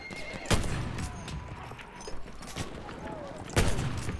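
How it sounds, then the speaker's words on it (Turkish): Battlefield 1 gameplay with a horse whinnying and hooves clattering amid gunfire, including a couple of sharp loud shots, as someone talks over the action. "Ata vurdum bayağı bir de."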